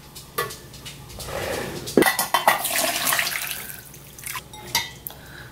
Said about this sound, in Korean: 그래서 커피포트에 물 팔팔 끓였거든요. 이렇게 부어놓으면은